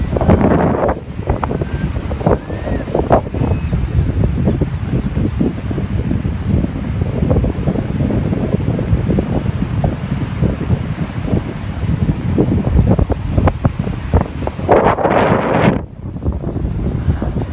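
Storm-churned ocean surf at high tide on Ortley Beach roars steadily, with heavy wind buffeting the microphone throughout and no voices.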